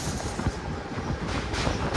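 A Tungabhadra Express train runs at good speed, a steady loud rumble of wheels and carriage noise with faint rhythmic clatter, heard from inside an AC coach, with no voices.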